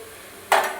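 A spoon stirs sautéed young stalk greens (saag) in a cooking pan, with one short, close scraping rustle and sizzle after a moment of quiet.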